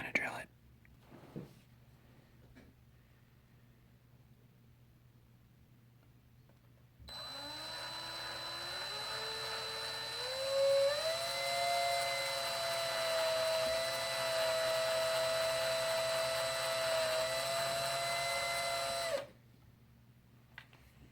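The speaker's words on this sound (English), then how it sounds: "I'm gonna drill it." A high-pitched power drill whines steadily for about twelve seconds drilling a fly-fishing popper, its pitch rising as it spins up, close and loud, with quiet murmuring before it starts.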